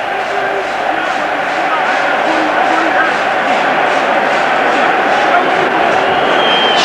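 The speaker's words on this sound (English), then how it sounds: "And the crowd are right behind them." Rugby crowd cheering for France at a 1992 South Africa vs France test match: a dense, steady roar of many voices sustained evenly throughout.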